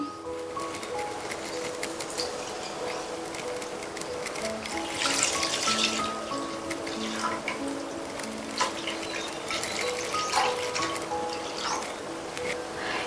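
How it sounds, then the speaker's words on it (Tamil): One litre of full-fat milk, with no water added, pours into a pan in a home kitchen. The stream trickles and splashes softly and steadily, with small clinks and a louder gush partway through. "அடுத்து இந்த பேன்ல தண்ணி சேர்க்காத ஃபுல் ஃபேட் மில்க் 1 லிட்டர் சேர்க்கிறேன்"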